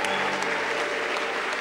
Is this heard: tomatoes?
no